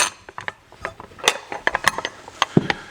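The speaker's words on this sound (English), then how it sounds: "I'm going to put the nuts down." Nuts are fitted onto the bolts of a rotating flag pole top, giving a quick series of close metallic clicks, ratcheting taps and small clinks in an irregular rhythm, with no talking.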